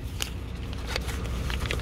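A new key for a 2014 BMW 7 Series is unwrapped up close, its packaging giving a few sharp crinkles and crackles over a steady, quiet background.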